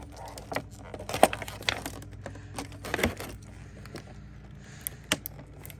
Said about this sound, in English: This tape is fighting me today.